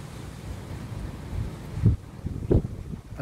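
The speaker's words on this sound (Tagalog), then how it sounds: "malakas pa rin ang hangin." Strong morning wind during a rain storm buffets the microphone with a constant rough rumble, broken by heavier low thumping gusts in the second half.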